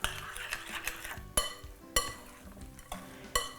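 Spoon stirring a potato latke mixture with added egg in a bowl, a soft scraping swirl broken by several sharp clinks against the bowl's side, close and fairly quiet.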